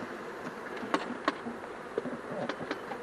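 Honeybees buzz around a hive as a colony is moved from a nucleus box into a full hive, with a steady insect hum and several louder close passes or taps standing out against the drone.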